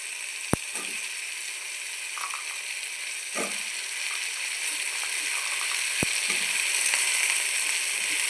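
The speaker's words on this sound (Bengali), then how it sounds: "ভেজে নেবো ভালো করে তারপরে বেগুনটা দেবো বন্ধুরা দেখো আলুটা ভাজে ভাজে হয়ে গেছে" Potatoes fry in a pan with a steady, soft sizzle, close by, broken by a few sharp clicks and scrapes of a utensil against the pan.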